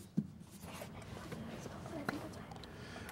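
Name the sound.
students writing answers on paper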